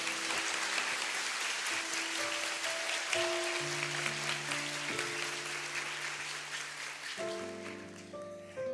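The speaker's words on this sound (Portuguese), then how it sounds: "Vamos aplaudir poderosamente a palavra do Senhor." A church congregation applauds vigorously after a scripture reading at a Catholic prayer gathering, dense sustained clapping throughout while sustained organ or keyboard tones play beneath it.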